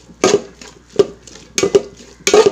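Chicken roast masala being stirred in a pan, a utensil scraping and clinking against the metal in four or five separate bursts, close and fairly loud, with no talking.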